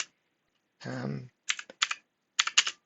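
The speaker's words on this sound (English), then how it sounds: "All I need to do is start typing my title." A brief spoken sound gives way to short clusters of computer keyboard key taps, a few quick clicks at a time, close and clear.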